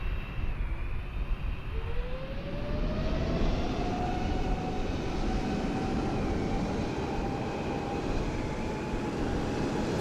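An airliner takes off at Sydney airport in Microsoft Flight Simulator 2020 with a steady jet engine roar. A rising whine climbs in pitch and then holds over a broad, moderately loud rumble.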